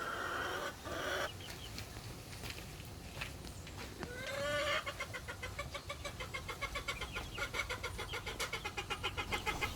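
Young and adult chickens cluck in a fenced chicken run. The clucks are soft and scattered at first, then become a steady rhythmic chatter, with a faint hum of traffic in the background.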